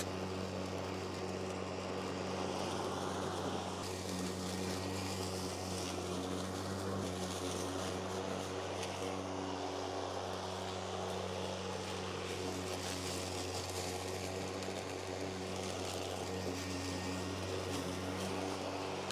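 Honda HRX 21-inch battery lawn mower cutting grass, a steady whining electric hum with a low blade drone and soft rustle of clippings, fairly faint and constant without a combustion engine's chug.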